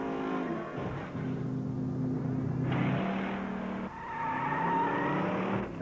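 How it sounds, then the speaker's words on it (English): Cars skid and rev as a continuous sound effect, with engines rising and falling in pitch and tires squealing, loud and close throughout. "Maybe if they had cars, they could stop me."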